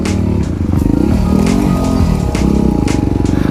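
An Itálica DM 150 motorcycle being ridden, its engine droning loud and close with a steady low throb that swells and dips as the throttle shifts.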